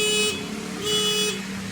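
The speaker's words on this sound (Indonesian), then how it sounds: "Alarm sudah nyala. Alarm sudah aktif." A wifi-controlled motorcycle security alarm gives two short electronic tonal bursts, each about a third of a second, separated by a brief gap, sounding close and clear.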